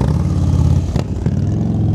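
An X-Wedge motorcycle's 1979cc 56-degree V-Twin engine idles and revs close by, a loud throbbing rumble with two brief blips of throttle, no voices.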